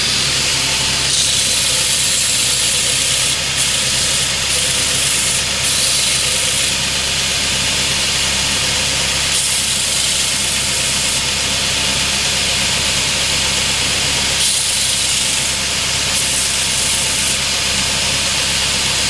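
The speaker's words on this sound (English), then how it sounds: "I'm just touching it to the belt sander" A belt sander grinds soft plastic during guitar refret work, giving a loud steady motor whine and abrasive hiss throughout, with brief changes in tone as the piece touches the belt.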